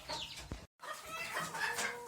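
A Ko Shamo rooster makes a few short, close clucks. A brief silent gap breaks the sounds partway through.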